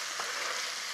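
Meat stir-fried in a pan as the base for Korean yukgaejang beef soup, a brief steady sizzle of frying at close range with no talk.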